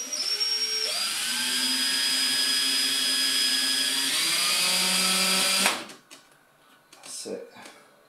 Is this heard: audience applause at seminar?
no